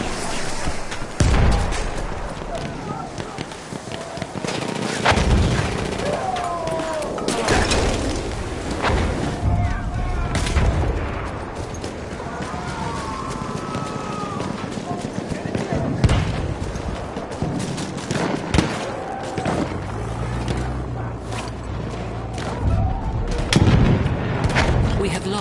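Battlefield gameplay combat with a grenade explosion and gunfire: thick, continuous battle noise with repeated gunshot bursts and heavy booms, loud and busy, while voices shout over the fighting.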